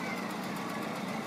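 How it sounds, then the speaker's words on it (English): A motorbike rolls past in a Santa parade with a steady, droning engine note that is loud and continuous throughout, set against outdoor crowd ambience. "Here's your girl's motorbike coming up right here."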